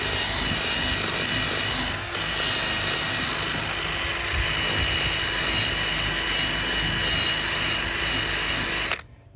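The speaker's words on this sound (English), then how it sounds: "gonna do some quick wire wheeling" A wire wheel grinds pitted rust off a metal tool, a steady loud whirring scrape that holds for about nine seconds before cutting off abruptly.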